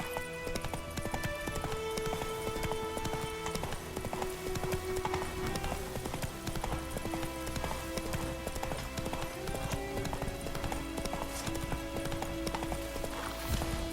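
Horse hooves clip-clop at a galloping pace throughout a Witcher 3 game scene, steady and close, over a bed of music with light rain and an occasional whinny; a brief voice is heard.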